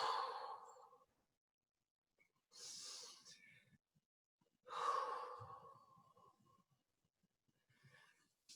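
Slow, deep breaths during a kickboxing fitness stretching workout, taken while holding a forward bend: three or four drawn-out, airy inhales and exhales, close and fairly soft, separated by short silences.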